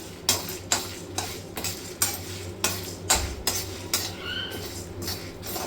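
A spatula taps and scrapes rhythmically against a pan as toor dal roasts for curry leaf powder, steady clicks roughly twice a second, fairly quiet and with no talking.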